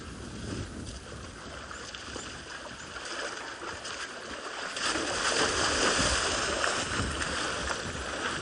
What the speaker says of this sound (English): It's nice just to listen to all the sounds of the splashing and bellows of the buffalo